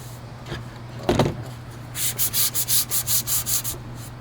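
A wooden table gets its final sanding: a faint scuff, a brief rub, then a run of quick, regular back-and-forth strokes at close range, with no talking.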